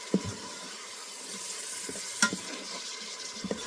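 Onions cook in a pot for vegetable soup with a soft, steady sizzle and a few faint scrapes and taps of stirring, quiet and alone.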